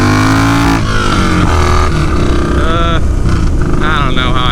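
A motorcycle engine revs and pulls hard during a wheelie, loud and close with rising and falling pitch, while a voice talks over it.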